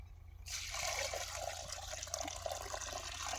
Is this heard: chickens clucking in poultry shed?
no